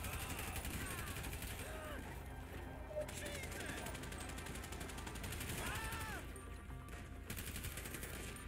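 Gunfire in GTA 5 during the prologue mission, a busy run of shots in a continuous game mix with voices and other sounds around it.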